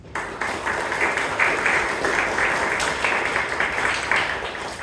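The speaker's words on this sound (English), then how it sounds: "big round of applause, please" Members at a Bangalore Toastmasters club meeting give a round of applause, a steady patter of claps from a modest room audience that begins sharply and holds at even strength.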